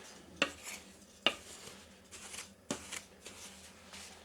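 A mixture of dirt and melting wax is stirred constantly in a pot, with a few sharp scraping knocks and softer gritty shuffling strokes spaced irregularly, close and fairly quiet.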